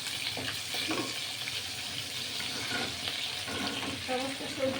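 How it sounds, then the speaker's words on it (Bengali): Potatoes and mixed vegetables for a Bengali niramish labra sizzle and fry in a pan, a steady close crackle with occasional stirring clinks. "প্রথমে আলু ছাড়লাম আমি সব সব সবজি একসাথে ফেলে দিচ্ছি"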